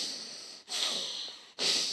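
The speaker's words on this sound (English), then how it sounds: "we're simply going to breathe into our abdomen, expanding, maintaining pressure" Deep controlled breaths drawn into the abdomen during a core exercise, two long airy inhales or exhales broken by brief pauses, close and fairly loud with no talking.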